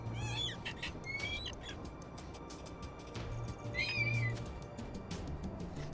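In the VR game Falcon Age, a falcon gives a few short, high calls over a busy, faint game soundscape full of scattered clicks and ticks.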